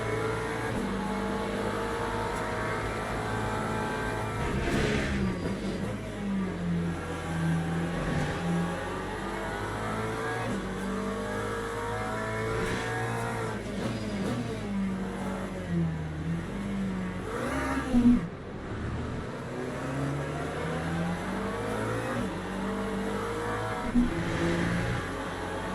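Race cars roar continuously in the Le Mans Ultimate racing sim, a Porsche among them, with engines rising and falling through gear changes and other cars close by.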